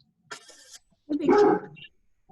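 A big dog barks close by, with one short bark followed by a longer, louder run of rough barking.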